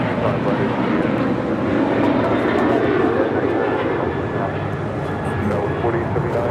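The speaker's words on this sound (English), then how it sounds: "United full length, 2237 taking off to Houston Intercontinental on a 737-800" A United Airlines Boeing 737-800 takes off at Los Angeles International Airport on a full-length departure, its jet engines sending a loud, sustained roar that swells slightly and then eases, with a voice talking over it.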